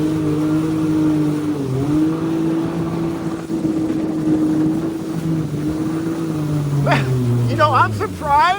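A Yamaha Jet Blaster personal watercraft runs at a steady engine drone that wavers as it turns tight spins on the water, with a voice speaking over it near the end.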